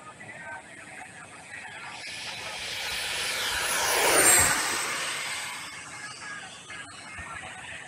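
64mm electric ducted fan RC jet making a high-speed pass outdoors, a hissing whine that swells to a loud peak as it flies by, then fades away.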